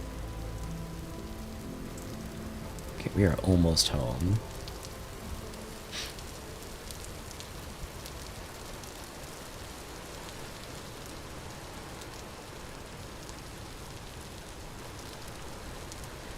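Steady rain hisses over the landscape in the survival game Vintage Story, a constant soft wash with scattered drops, while a person speaks briefly near the start.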